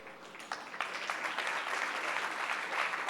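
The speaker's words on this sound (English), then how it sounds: "This gentleman, who I'm going to say now, like Manavalan, requires a big round of applause." Sustained dense applause from an audience at a Singapore temple event honouring a guest, steady and fairly loud throughout with no voices over it.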